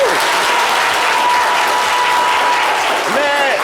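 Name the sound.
audience applause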